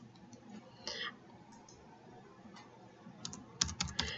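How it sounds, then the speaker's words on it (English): Typing on a computer keyboard, with a quiet scatter of key clicks early on, then a faster cluster of crisp taps near the end, close and fairly soft, with no voice. "I'm also going to make sure that I type my name here."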